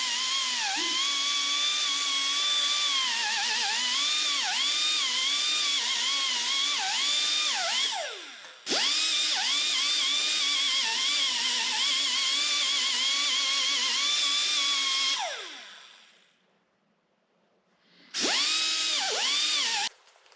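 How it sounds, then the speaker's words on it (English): A sanding disc grinds down Ski-Doo Summit snowmobile seat foam steadily with a high, whining tone that dips and wavers in pitch, stops briefly, runs again, then cuts out and restarts near the end. "I'm using that same sanding disc here to cut down the high spots in the foam"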